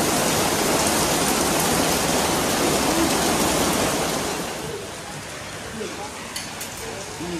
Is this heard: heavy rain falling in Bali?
yes